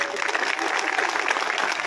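An audience at a BJP urban farmers' conference applauds steadily for about two seconds, a dense wash of many hands that stays even in loudness throughout.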